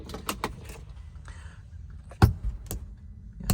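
A key turning in the four-position key switch of a 2022 Polaris Ranger Northstar Trail Boss, heard as a few close, sharp clicks and jangles with faint rustling between them.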